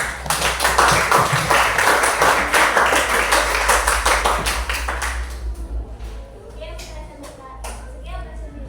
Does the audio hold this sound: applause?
yes